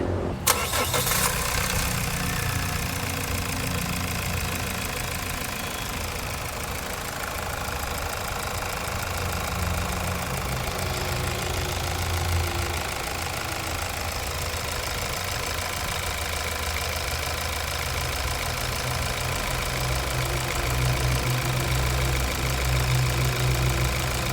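A 2018 Mazda CX-5 2.2 diesel engine cranks and catches at the start, then settles into a steady, loud idle with a rhythmic mechanical rumble throughout.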